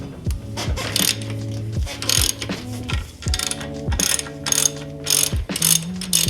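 A hand ratchet loosening bolts on the front end of a Harley-Davidson FXR motorcycle clicks loudly and close in repeated rapid strokes, each burst separated by brief pauses.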